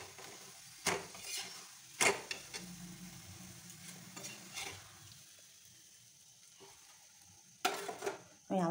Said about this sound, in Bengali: এরকম করে সব ভেজে নেব।